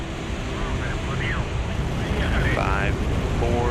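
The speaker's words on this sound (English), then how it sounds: "Preliminary command confirmed, engines firing." A Soyuz rocket's engines fire at launch for a crewed flight to the International Space Station, making a loud, continuous broadband roar that stays steady throughout, with a faint voice barely audible over it.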